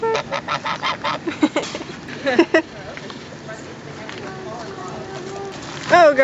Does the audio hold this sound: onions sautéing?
no